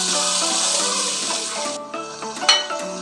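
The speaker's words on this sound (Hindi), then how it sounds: "पानी ऐड करेंगे, इतनी देर पकाएंगे कि कीमा गल जाए।" Water poured into a pan of frying minced meat for a bhindi keema dish, a loud, steady rushing hiss that softens toward the end with a few sharp sizzling clicks, no talking.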